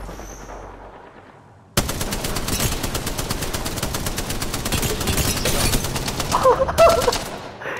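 Sustained automatic gunfire in a video game shootout, loud and close, with rapid continuous bursts lasting several seconds after a brief quieter lead-in.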